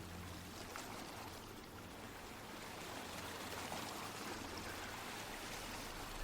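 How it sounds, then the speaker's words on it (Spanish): Water flows continuously at the edge of a lake, a steady rushing and trickling wash with a faint low hum beneath, unbroken and fairly close, with no talking. "otra sesión de sonidos relajantes, sonidos de la naturaleza, sonidos del agua"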